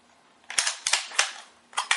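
An SKS rifle's action is cycled during a function check, making a handful of sharp metallic clacks and snaps in an uneven rhythm, close and crisp, with no talking.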